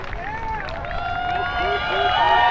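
Spectators cheering and applauding at the finish of a 2021 PDGA Worlds disc golf event after a throw-in, a steady swell of crowd noise under a commentator's voice talking throughout.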